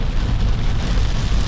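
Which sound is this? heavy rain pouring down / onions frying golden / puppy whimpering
heavy rain pouring down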